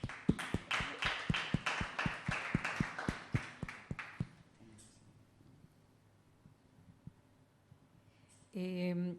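A small audience at a talk on Mexico and the environment claps in a steady run of distinct, evenly spaced hand claps for about four seconds. The clapping then fades into quiet room tone, and a voice starts at the very end.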